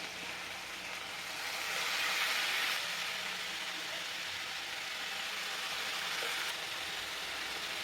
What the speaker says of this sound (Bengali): এখানে এই যে চিপে চিপে আমি চাল কুমড়োগুলো দিয়ে দিচ্ছি